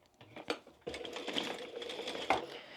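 A sewing machine stitches the shaped lining of a small flap bag, starting with a couple of short bursts before settling into a steady, close-up mechanical whir that runs to the end.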